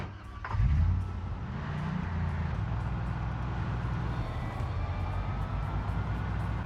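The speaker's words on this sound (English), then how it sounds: "I find this red van. This is going to be my new car." Red van driving in Project Zomboid, a low steady engine drone that holds from start to finish with a brief louder rev near the start, with no talk over it.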